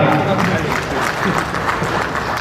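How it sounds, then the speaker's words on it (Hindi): An audience at a broiler breeders association annual general meeting in Karnal claps in a close, busy burst, with a voice talking over the clapping. "इस ब्रीडर एसोसिएशन की टीम के लिए एक बार फिर जोर से तालियां"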